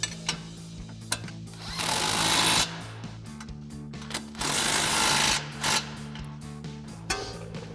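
Impact wrench driving suspension nuts tight on a 2016-2024 Chevrolet Camaro with a 24 mm socket, two sustained loud rattling bursts separated by quieter clicks and handling noise, with no talk.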